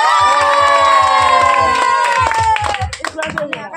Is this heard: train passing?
no